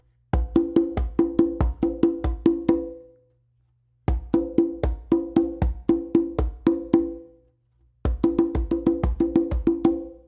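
A conga workout exercise alternates low bass slaps and bright open tones in fast triplet groupings. Three repeated phrases of crisp, close hits are separated by brief pauses, and no one speaks.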